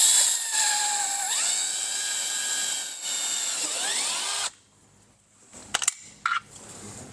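A power drill bores holes for a Rokblokz fender kit on a 2024+ Polaris RZR XP 1000, a high-pitched whine rising and dropping in speed for several seconds, then it stops and a few short clicks and clatters follow.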